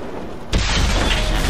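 A tank cannon fires in a tank battle video game, played from a Leopard 1, as a single sudden loud boom that cuts in abruptly and rolls on with a sustained heavy rumble and crackle.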